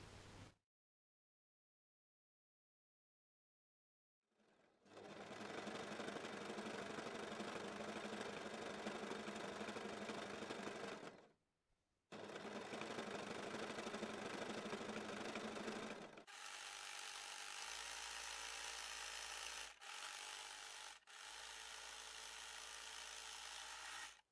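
A sewing machine stitching along the outside of a hair-dryer hood, a steady loud mechanical whirr running in long bursts with brief stops between them, close up and with no talk.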